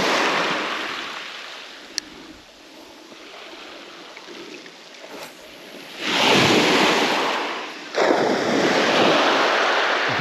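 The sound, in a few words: waves lapping on the shore at night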